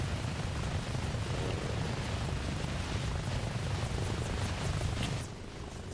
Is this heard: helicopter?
yes